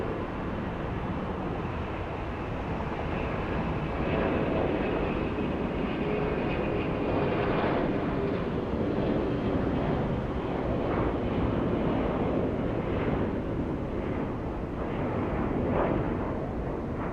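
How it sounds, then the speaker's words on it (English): Jet airliners taxi at Atlanta's Hartsfield-Jackson airport, their steady broad engine roar rumbling continuously at moderate distance with slight swells, no talk over it. "Are all these planes wanting to take off?"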